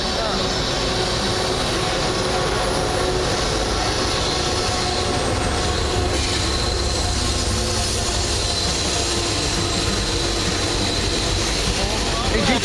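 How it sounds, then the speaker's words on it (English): A loaded coal train rolls along tracks beside a river, a loud continuous rumble and rattle of cars with faint wheel squeal, steady for the whole stretch and heard outdoors. "Train loaded with coal running right down by the river there."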